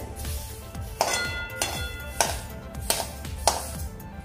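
Roasted sesame seeds scraped out of a pan onto a plate: soft clinks and scraping knocks of a spoon against metal, four or five sharp taps spaced about half a second apart, close and fairly quiet.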